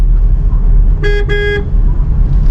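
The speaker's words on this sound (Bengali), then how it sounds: "হালকা হর্ন দিলাম" A light car horn gives two quick toots in a row while the car cruises in third gear, clear and close over the steady rumble of the engine and road.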